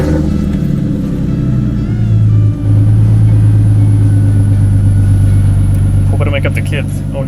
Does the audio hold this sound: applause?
no